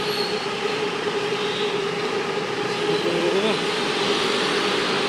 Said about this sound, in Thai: ไปแล้วนั่นรถไฟฟ้าไปแล้ว